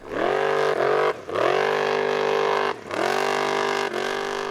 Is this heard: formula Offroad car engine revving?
yes